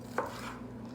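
A single knife cut snips the tip off a vegetable, one short crisp tap on a board over a faint background hum.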